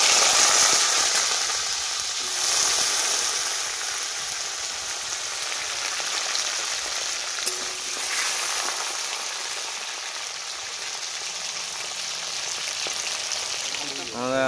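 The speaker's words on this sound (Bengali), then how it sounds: "তো বন্ধুরা আমাদের তেল গরম হয়ে গেছে, আমরা কেটে রাখা পেঁপে আর আলু এর মধ্যে দিয়ে দেবো।" Cut papaya and potatoes fry in hot oil, a dense, steady sizzle close by that holds loud throughout with faint stirring noises.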